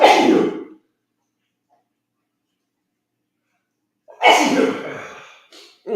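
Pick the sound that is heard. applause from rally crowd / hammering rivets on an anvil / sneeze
sneeze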